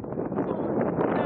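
Gusting wind at a sunny beach buffets the microphone in a dense, rumbling roar, loud and continuous for a brief moment.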